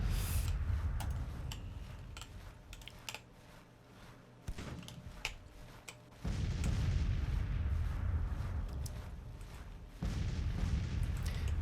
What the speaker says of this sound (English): There goes Gully artillery.